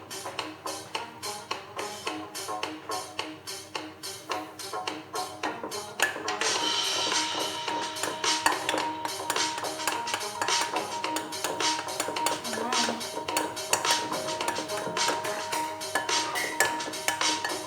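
Pancake batter whisked in a bowl: a fast run of rhythmic ticking beats, followed by a denser, continuous scraping and tapping as the mixing goes on. The sound is close and moderately loud, with no voices.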